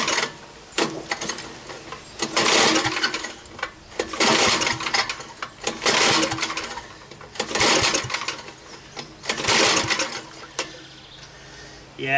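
An old Sears rototiller engine with the choke on is cranked by its worn recoil starter, making repeated loud mechanical rasping pulls, about five of them at uneven intervals, each a burst of whirring clatter with quieter gaps between.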